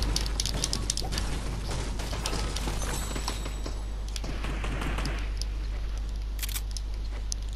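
Gunfire in the video game Fortnite: clusters of sharp cracks fire in rapid bursts for several seconds, then thin out, over a constant low game hum.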